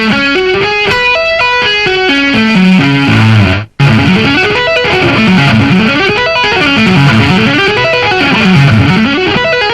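Heavily distorted electric rock guitar arpeggios ripple up and down in a steady pattern, loud and close, with a brief cut near the start before the sweeping figures continue.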